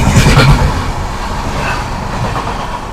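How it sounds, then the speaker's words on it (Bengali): The Saraighat Express, a Guwahati–Howrah train, rolls over a rail bridge with a loud, close, continuous rumble and rhythmic clatter of wheels on the track, strongest at the start. "গুয়াহাটি হাওড়া সরাইঘাট এক্সপ্রেস"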